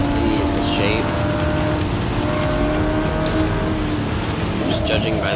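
A Nissan Skyline race car in Forza Motorsport 6 roars past during a foggy race, its engine droning loudly and steadily with tire squeal and other cars mixed in, continuous throughout.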